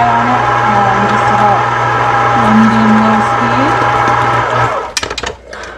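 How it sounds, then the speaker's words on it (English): An electric mixer at medium-low speed steadily whirs as it blends flour into pumpkin cheesecake batter, a loud continuous motor hum that cuts off near the end, followed by a few clattering knocks from the bowl. "we're just gonna mix that until just mixed"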